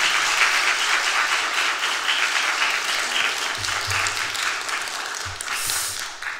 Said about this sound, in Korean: 하나님께 큰 영광의 박수 드리겠습니다